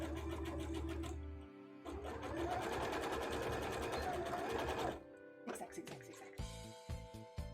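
A sewing machine stitches fabric for a handmade rainbow bra, running in loud close bursts that stop and restart, with short pauses between runs and a voice talking over it.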